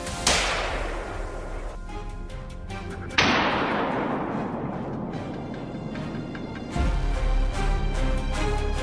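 Rifle shots ring out during a wild boar hunt outdoors: two sharp, loud cracks a few seconds apart, each trailing off in a long rolling echo, with a further burst of noise near the end.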